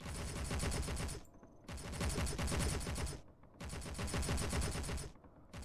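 Turret guns firing in Space Engineers under manual control, loud sustained bursts of rapid automatic fire, three long volleys separated by brief pauses.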